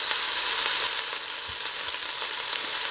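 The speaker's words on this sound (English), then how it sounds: "Going to continue turning it and searing it." A seasoned beef roast sears in a hot pot with a loud, dense, continuous hiss and crackle. A few soft shifts come as the meat is turned, and no one speaks.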